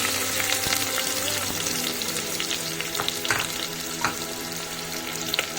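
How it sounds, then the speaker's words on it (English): Chopped onions fry in hot oil and ghee for Karnataka-style mutton curry, a loud close crackling sizzle with frequent sharp pops and occasional scrapes of stirring, no voices. "we need to fry the onions first till they turn a little bit brown in color"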